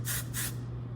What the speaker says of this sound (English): It's a beautiful kind of texturized spray for curls